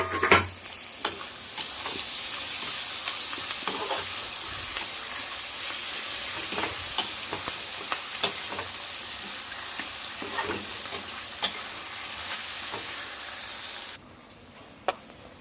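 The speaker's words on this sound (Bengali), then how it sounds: "আমার পেঁয়াজটা হালকা হালকা ভাজা হয়ে গেছে, আমাদের টমেটোটা দিয়ে দেবো আমি।" Onions frying in a pan with tomato added give a steady, close sizzle and hiss, broken by repeated stirring scrapes and clicks, before the sizzle suddenly quiets near the end.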